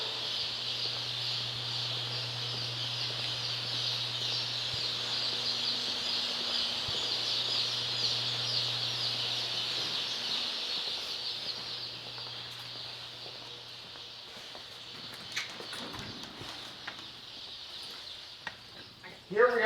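Chicks at a hatchery store give a dense, steady chorus of high peeps throughout. A low hum runs beneath, and a few clatters come near the end.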